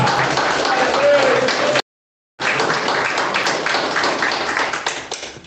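A church congregation claps along during a Portuguese-language sermon, a dense continuous patter filling the space with a brief gap, voices mixed in under the clapping.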